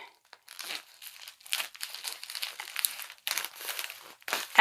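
Package being cut open with scissors, a quick series of crinkling, rustling and tearing bursts from plastic or paper wrapping, close and fairly quiet, with no talk.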